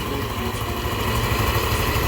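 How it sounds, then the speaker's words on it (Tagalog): A Honda Click 150i V2 motorcycle engine idles steadily up close, a continuous low chugging rumble with a buzzy edge and no other sounds. "ato na nang ipaandar ang motor, so para madungog ninyo ang iyang makina"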